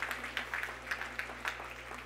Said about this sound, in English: you can give the Lord a hand clap for that